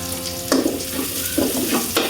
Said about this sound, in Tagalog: sa akin kasi guys is ginigisa ko yung pan, yung paminta